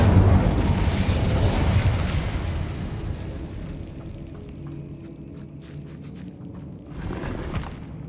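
Incendio fire spell cast in Hogwarts Legacy, a loud roaring burst of flame that whooshes and crackles for several seconds, fading then flaring briefly again near the end.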